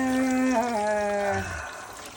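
Water starts flowing at a cabin in the Bighorn National Forest, a close, tonal gurgling pour with a falling pitch that lasts about two seconds and then fades, with no talk.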